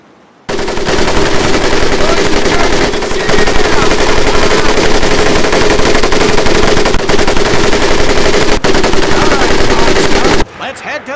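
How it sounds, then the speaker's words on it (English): An M1919A4 machine gun fires a long, unbroken stream of loud rapid shots at a boot camp training range in Medal of Honor: Pacific Assault, the clatter continuing for about ten seconds before cutting off abruptly. "M1919A4 caliber machine gun"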